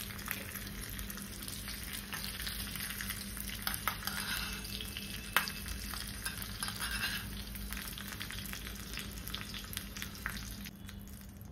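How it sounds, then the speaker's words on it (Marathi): Spices tempering in hot oil for dhokla give a continuous soft sizzle and hiss with small crackles and an occasional clink, fairly faint and without talk. "ढोकळ्याची फोडणी"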